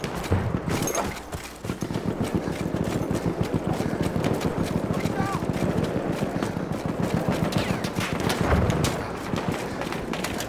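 Rapid machine gun fire in the Battlefield 1 video game, Sinai Desert conquest battle: continuous dense rattling bursts with fairly steady loudness, mixed with other battle noise.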